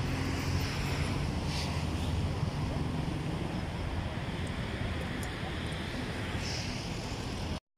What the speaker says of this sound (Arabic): شوف امن صوت البحر